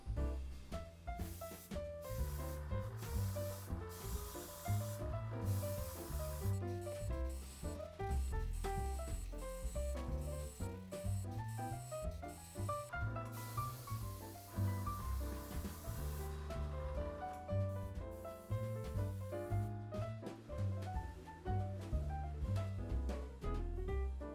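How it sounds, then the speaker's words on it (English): Hissing spray of black cocoa butter going into a chocolate bonbon mould, soft continuous sputtering bursts layered over background music. "I'm starting by flicking black cocoa butter into the mould, before completely going over that in yellow."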